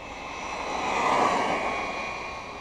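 Arrma Vorteks 4x4 3S RC car screaming past at full throttle on a high-speed run, a steady high-pitched electric whine that swells as it nears and fades slightly as it moves away, with no talking.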